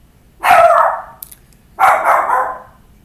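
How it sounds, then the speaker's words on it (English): A dog barks twice indoors, each a loud, fairly close single bark with a short trailing yelp, separated by about a second of quiet. "And my dog's going to keep barking."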